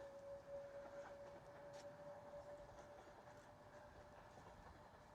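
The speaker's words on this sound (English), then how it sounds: "You can hear the train." A train runs near Warrington station on an industrial walk, giving a faint, steady rumble with a thin sustained whine that holds for a couple of seconds, heard from some distance outdoors.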